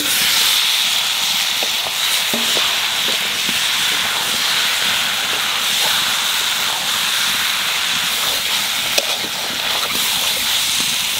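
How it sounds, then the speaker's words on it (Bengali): Country chicken meat hits hot fried onions in a pan, giving a steady, loud, broad sizzling hiss that holds throughout without talk. "এখানে মাংস দিয়ে দেবো।"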